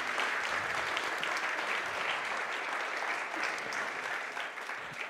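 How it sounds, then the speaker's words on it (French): Sustained applause from a conference audience at a World Water Day event, a dense even wash of many hands clapping steadily throughout, easing slightly near the end. "on peut vous applaudir"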